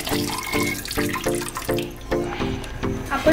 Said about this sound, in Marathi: मटकी शिजवलेलं पाणी हे आपण मसाल्यामध्ये ऍड